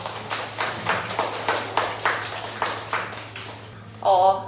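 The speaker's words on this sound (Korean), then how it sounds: "박수로 맞이해 주세요." Audience at a Korean academy information session clapping in a steady patter to welcome a physics teacher, moderately quiet under a faint hum, fading out as a voice begins speaking at the end.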